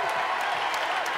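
A studio audience at a French television variety show applauds for Michel Legrand and Annie Pujol, a dense, steady wash of clapping throughout the brief moment.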